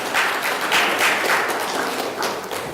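An audience at a World Metaverse Summit and Awards event applauds to welcome a panelist, with continuous, full crowd clapping that stays steady and close for the whole stretch.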